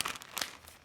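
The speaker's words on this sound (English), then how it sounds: "I'm going to just spend most of my time with this notebook bending it and rustling it" A handmade notebook with soft, fabric-like paper being bent and rustled close by, giving a few quick crinkling bursts that fade within a second.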